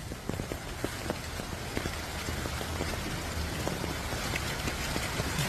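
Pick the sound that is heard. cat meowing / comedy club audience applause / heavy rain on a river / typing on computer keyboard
heavy rain on a river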